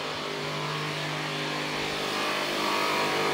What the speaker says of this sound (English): David is using his new brand new Makita jigsaw